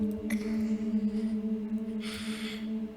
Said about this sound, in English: I don't like what sounds like a frightened child's breathing.